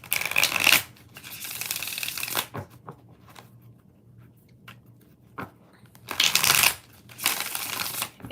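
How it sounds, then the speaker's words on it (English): A deck of tarot cards is riffled and shuffled nearby in several crisp bursts, with quieter handling and tapping of the cards between the bursts. "5 shuffles."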